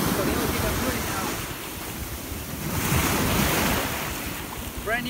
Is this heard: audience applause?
no